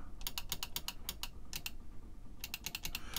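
Keys clatter on the keyboard of an MST-80 computer from Lawrence Livermore Labs, quick clicky keystrokes in short bursts with pauses between, close and fairly quiet against a low background hum.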